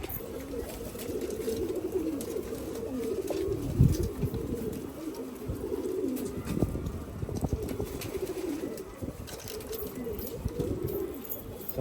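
Pigeons in a loft coo in soft, repeated low calls against a busy background, while someone talks quietly at times.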